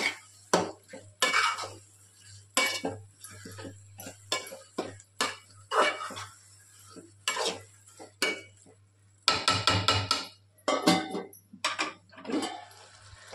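A spoon stirs and scrapes ivy gourd chutney in a metal pan, giving sharp, irregular clinks and scrapes with short quiet gaps, close by over a steady low hum.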